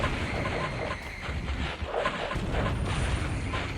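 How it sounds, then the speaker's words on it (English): Heavy Death Guard artillery cannons fire in a Dawn of War battle, producing a dense, continuous rumble of booms and explosions with layered low thuds and crackling debris, loud and sustained throughout. "Hear that cannon roar, baby."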